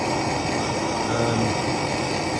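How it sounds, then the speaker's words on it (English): A steady, loud roaring hiss fills the whole stretch without a break, a gas torch flame burning close by while silver soldering a custom RC4WD TF2 front bumper. "So excuse the noise, can't be helped with the torch"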